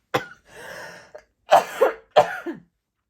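Several harsh coughs in a row, close to the microphone, with a short raspy throat-clearing sound between them.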